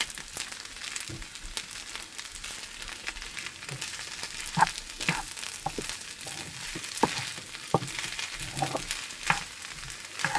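Rice with an egg being stirred and mixed in a lightly oiled pan, a soft continuous sizzle broken by repeated scraping spatula strokes and clacks against the sticking bottom.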